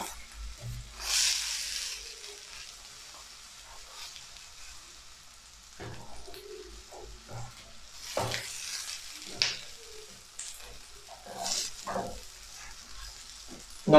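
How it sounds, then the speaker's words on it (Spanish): Bread and egg sandwich cooking in a pan over medium heat, a soft low sizzle broken by scraping and stirring of a utensil against the pan, quiet with intermittent louder clatters and no talk. "Ahora vamos cocinando siempre a fuego medio para que no se nos queme"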